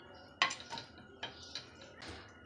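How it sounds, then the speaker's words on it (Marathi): Metal pan set down on a hot tawa griddle while making pizza at home, giving a few quiet clinks and scrapes of metal on metal, sharpest near the start, then lighter taps. "तर आपण याच्यावर पॅन ठेवून घेऊया"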